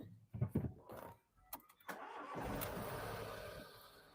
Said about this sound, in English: Engine a bit noisy, but it's not knocking yet.